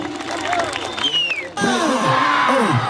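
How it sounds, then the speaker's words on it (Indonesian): Crowd at an open-air election campaign rally in Seram Bagian Timur, cheering and whooping loudly near the microphone, with shouted voices rising over the noise and a sudden louder swell halfway through. "Kita berikan aplaus dulu buat Tanah Jalfat."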